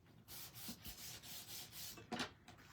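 A small hand press is rubbed back and forth over stamped cardstock, making soft, faint scraping strokes in a steady rhythm with a slightly firmer stroke near the end.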